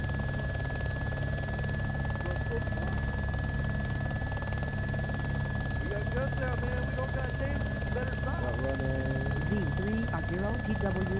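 Steady video game helicopter rotor drone runs throughout, with voices talking over it and a constant high electronic tone.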